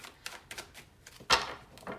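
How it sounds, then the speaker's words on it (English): Tarot cards are shuffled by hand, making a quick series of soft, papery flicks close by, with one louder riffle partway through; no one speaks. "You just shuffle the cards,"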